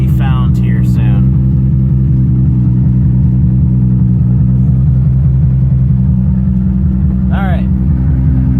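A Toyota Supra race car engine runs at a steady, loud, low-pitched idle with a strong rumbling drone throughout, while a voice talks briefly at the start and again near the end.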